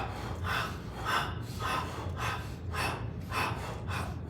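Slow, deep breaths during a yoga exercise, with about seven soft rhythmic inhales and exhales, each a breathy swell, close and quiet with no talking.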